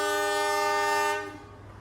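Serayu train sounds a long, loud horn at Tasikmalaya station, the sustained tone cutting off and leaving rail rumble and ambient noise.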